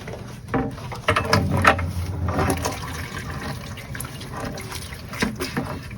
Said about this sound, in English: Now we're going to flush the tank with the water we just added